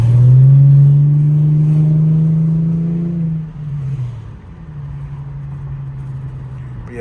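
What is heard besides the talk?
Infiniti G35 car engine revving while driving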